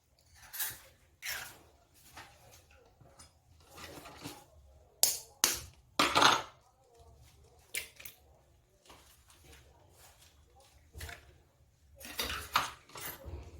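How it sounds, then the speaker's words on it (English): Four eggs beaten in a bowl for a potato breakfast, with a utensil clinking and tapping against the bowl in uneven bursts of quick strokes and pauses, close and fairly quiet, with no talking. "I'm also going to put 4 eggs that I'm just going to beat right now and add to my mixture."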